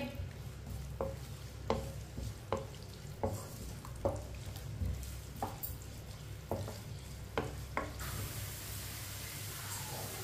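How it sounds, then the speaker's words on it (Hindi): Finely chopped onion fries in oil in a pan while being lightly browned for a tinday vegetable dish, a steady low sizzle broken by regular scraping strokes of the stirring spoon. "एक बारीक कटा हुआ प्याज। प्याज को हल्का सा ब्राउन कर लेंगे।"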